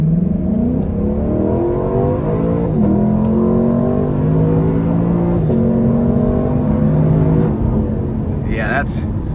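A Lexus LC500 convertible's 5-liter V8 accelerating hard, revving up through several gears with distinct rising pulls and brief dips at each shift, close and loud, ending with a short high whine.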